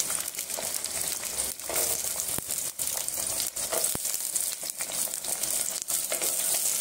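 Small shallot-type onions added to garlic frying in hot oil in a pan, a busy crackling sizzle with irregular pops and stirring clatter, close and steady, with no voices.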